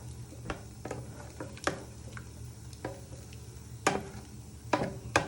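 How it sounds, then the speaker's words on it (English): A spoon stirs thickening lemon meringue pie filling in a pot, making quiet scrapes and sharp clicks against the pot at irregular intervals, with a low steady hum underneath. "So you just keep stirring it for a minute or 2 longer, so it starts to thicken up."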